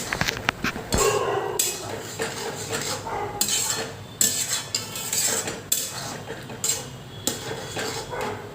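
A spoon scrapes and clinks against a pan while fried pointed gourd is stirred in mustard sauce, close and steady, in repeated strokes over a soft sizzle with no voices.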